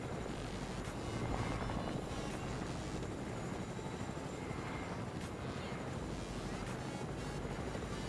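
A helicopter in Fortnite flies steadily, its rotor and engine making a continuous broadband whoosh and rumble, loud and close, with no voices over it.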